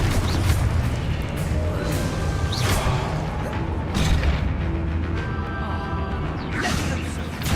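Confringo blasting spell going off in Hogwarts Legacy, a loud continuous blast-and-rumble with crashes, creaks and swooshes layered over it, while voices surface now and then.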